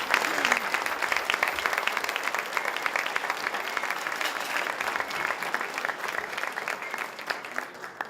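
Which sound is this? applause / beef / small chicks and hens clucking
applause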